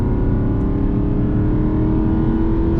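Aston Martin Vantage 4.3 V8 with a dry-sump engine and manual gearbox, running loud and close with a steady, dense rumble that holds without a break and no talking over it.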